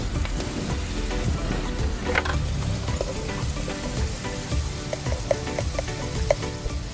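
Water hits a hot pan of puti fish and helencha greens, setting off a dense, continuous bubbling sizzle with scattered pops and spatters that stays loud and close throughout.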